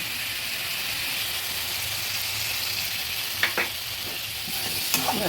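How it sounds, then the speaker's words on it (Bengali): Spices and salt are stirred through hot oil in a pan for a Bengali katla fish curry with potato and tomato, a steady close sizzle with a few sharp scrapes of the spoon partway through and near the end. "লঙ্কা গুঁড়ো, হলুদ গুঁড়ো, ভালোভাবে নেড়ে দিচ্ছি।"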